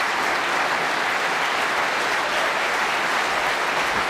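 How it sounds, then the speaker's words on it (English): Steady applause rises from a crowd at a World Championship snooker match, dense and continuous clapping heard at moderate distance for around four seconds. "You can just hear the applause on the other table as that match ends quickly"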